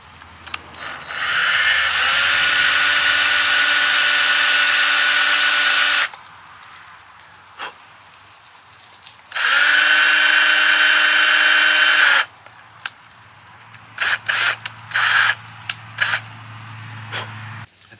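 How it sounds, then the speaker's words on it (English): Drill boring out part of a Frantz toilet-paper bypass oil filter on a Chevy 2500 350, running in two steady bursts of about four and three seconds with quiet handling clicks between and after. "Now I'm gonna go ahead and drill this out very ever so carefully."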